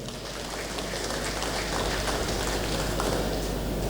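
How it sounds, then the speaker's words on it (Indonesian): Graduation ceremony crowd at Universitas Stikubank applauds students, a broad, steady roar of clapping in a large reverberant hall, fairly distant and sustained throughout. "Tepuk tangan untuk para mahasiswa."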